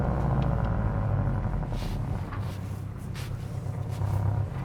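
Deep, steady exhaust rumble from a 2018 Porsche 718 Cayman GTS on a road, held fairly loud and close with slight swells as it drops through the gears on paddle shifters, with no talking.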